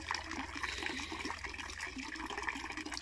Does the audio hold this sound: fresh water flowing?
yes